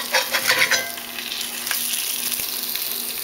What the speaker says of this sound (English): Eggs over easy in a cast iron skillet